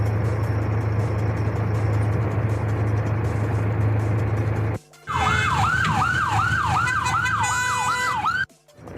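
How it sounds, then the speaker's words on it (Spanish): An ambulance siren wails while the vehicle pushes through a congested avenue. A steady traffic roar fills the first half, then loud, rapid rising-and-falling siren cycles come in close. "Esta ambulancia con la sirena encendida que pasó realmente toda una odisea tratando de transitar sobre esta congestionada avenida"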